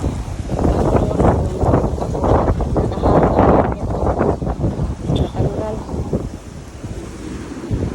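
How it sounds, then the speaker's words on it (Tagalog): Strong gusting wind after a typhoon buffets the microphone in a steady roar, with people talking underneath and a dog barking briefly. "lakas ng hangin"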